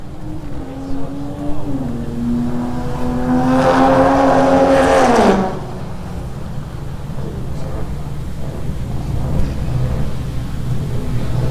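A race car on a hot lap at Buttonwillow passes close with a loud engine note that rises, holds, then drops away, over a constant background drone; a commentator talks in the background.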